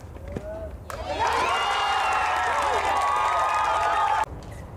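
Tennis crowd at a Las Vegas ATP Challenger match erupting in loud cheers and shouting, a sustained roar lasting about three seconds that cuts off abruptly.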